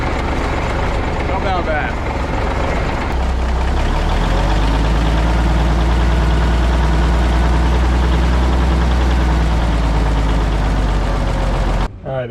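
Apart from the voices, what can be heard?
old cabover truck engine cranked by air starter, then idling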